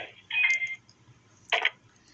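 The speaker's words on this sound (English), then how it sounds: "You can hear it physically hanging down. Hanging the phone up." A telephone handset is hung up, with two short clattering knocks about a second apart, close and fairly loud over a quiet line.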